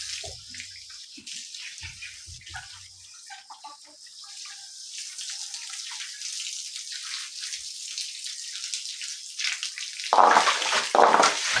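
Water sprayed and splashing across the floor of a pig pen during a rinse-down, a steady hiss of running water that swells louder and rougher near the end, with no talking.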